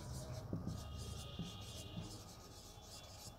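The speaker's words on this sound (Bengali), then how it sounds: "দেখো লিখছি" A pen scratches across a page of an English grammar test paper in short, quiet strokes and pauses, faint and close, over low room hiss.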